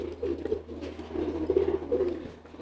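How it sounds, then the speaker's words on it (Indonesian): A courting pigeon coos nearby in low, rolling, repeated bursts, continuous over a faint steady background hum. "menanyakan merpatinya itu giring ketika ada merpati lain saja"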